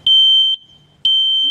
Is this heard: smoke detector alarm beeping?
yes